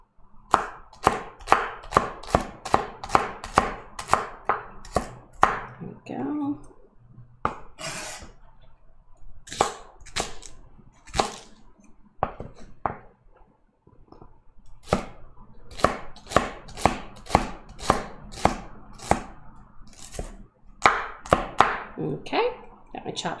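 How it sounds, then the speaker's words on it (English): A knife chops a shallot on a cutting board in a home kitchen, giving rapid bursts of sharp, close taps with short pauses between the runs. "So I'm just gonna be chopping my shallot."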